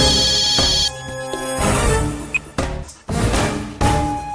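A phone rings during a call in a Tamil TV serial, giving repeated bursts of electronic ringtone with short gaps between them, loud and close.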